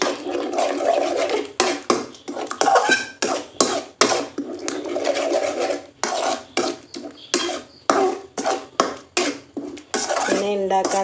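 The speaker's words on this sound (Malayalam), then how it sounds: "നന്നായിട്ടൊന്ന് മിക്സ് ചെയ്തെടുക്കുക നല്ലോണം ഒന്ന് ചിക്കി ഇങ്ങനെ നന്നായിട്ട് ചിക്കി എടുക്കുക" A spoon scrapes and clatters against a pan while drumstick leaves and egg are tossed for thoran, with steady repeated scraping strokes throughout, close and fairly loud, with occasional brief knocks.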